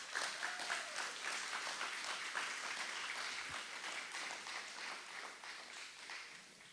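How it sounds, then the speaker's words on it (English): An audience at an election debate in Anguilla applauds a candidate with steady, dense clapping that holds for several seconds and then slowly tapers, heard from a short distance in a large room. "Round of applause, please."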